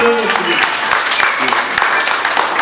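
Audience applause at a comedy show, loud continuous clapping from a crowd with voices underneath.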